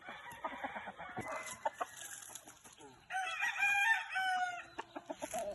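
A rooster, a backyard fighting breed, crows loudly nearby, a long strained cock-a-doodle-doo, with hens clucking in short bursts before and after.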